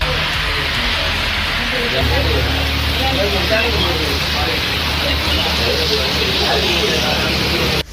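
Moderate rain falling at night in Chennai, a steady broadband hiss of drops spread evenly throughout with a low rumble underneath, continuous and fairly loud with no clear voices.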